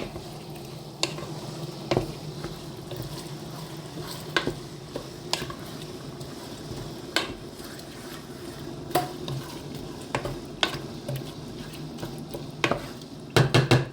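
Rice and vegetables stirred in a pot after water is added, a steady simmering sizzle under repeated scraping strokes and occasional knocks of the spoon against the pan, a louder clatter at the end, no voices.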